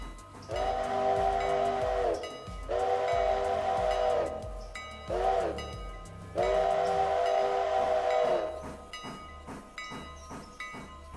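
A passenger train in a railroad video game bound for Bryson sounds four long, loud steam-whistle blasts, the last one held longest, followed by a fading run of rhythmic clicks and clanks from the wheels and cars.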